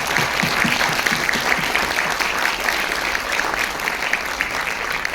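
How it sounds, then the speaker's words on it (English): Audience applause at the close of a youth entrepreneurship summit panel session, steady dense clapping sustained for several seconds with a low murmur beneath. "Please join me in warmly applauding the insights."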